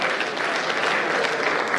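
An audience at a Nigerian comedy show claps for a mentor, a short, dense burst of applause, steady and close with no break.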